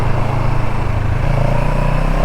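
A CFMOTO CLX 700 motorcycle engine while riding through smooth turns, droning steadily and loud up close, its pitch sliding down and then back up as the throttle changes.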